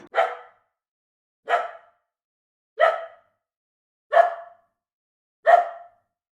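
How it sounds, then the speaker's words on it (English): Five single dog barks at a steady, evenly spaced rhythm, each sharp and fairly close, with silence between them. "D for dog."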